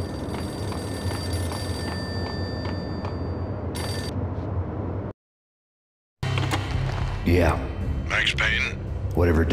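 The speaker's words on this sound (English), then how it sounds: "The payphone started to ring." Payphone ringing in the video game Max Payne, a few bright repeated rings over a steady in-game background hum, cut off by a short silence before a voice speaks.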